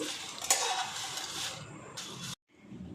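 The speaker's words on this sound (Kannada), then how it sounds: "ಆ ಎರಡು ಸೌಟ್ಲೆ ಹಿಂಗೆ ಮೇಲೆ ಕೆಳಗೆ ಒಣಮೆಣ್ಸಿನ್ಕಾಯಿ ಹುರಿಬೇಕು" Dry red chillies roasting in a pan for raw mango chutney, stirred up and down with two ladles: soft, continuous scraping and rustling with light metal clinks, fairly quiet, breaking off abruptly near the end.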